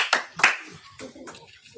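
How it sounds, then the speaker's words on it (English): An audience clapping hands at a GAH Elite Series event: a few sharp, separate claps close together near the start, then fainter scattered claps and low murmuring. "And clap your hands."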